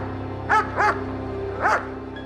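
A police dog gives three short, sharp barks at close range, two in quick succession and then one more after a pause, over a low steady hum.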